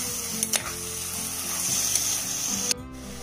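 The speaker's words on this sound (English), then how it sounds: "I'm then going to mix this really well with the onions" Half a kilo of boneless beef being stirred into frying onions for a pressure-cooker beef curry, with a continuous close sizzle and a few sharp spatula scrapes and clacks.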